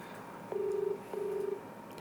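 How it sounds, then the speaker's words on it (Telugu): Two long electronic telephone tones with a short gap between them, like a call ringing out on a handset, heard clearly with no talking over them. "కాల్ రింగ్ అవుతుంది."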